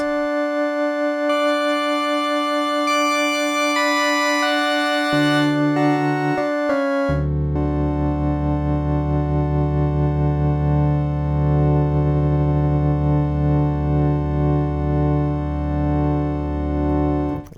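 Sustained Siel synthesizer chords ring out steadily, shifting once or twice before settling on a long, rich held seventh chord with bright overtones.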